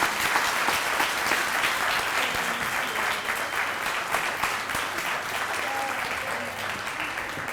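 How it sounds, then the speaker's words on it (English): Sustained, loud applause fills a room at a city volunteer recognition ceremony, dense clapping from a large audience holding steady throughout without letting up. "Please join me in a round of applause once more for Carly Wright and Press Play Salem."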